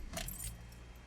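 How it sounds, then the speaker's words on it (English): A ring of keys jangles in the ignition of a Hyundai Sonata while it is started after a battery replacement, with a short, close metallic rattle over a low steady engine hum. "Now, time to start the car and see if it works."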